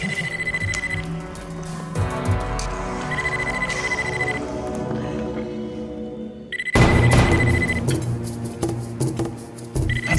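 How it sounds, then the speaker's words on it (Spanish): A telephone rings insistently indoors, its repeated tone bursts running under loud dramatic music in a scene from a soap opera, with no talk over it. "si no vas a contestar, apaga ese teléfono"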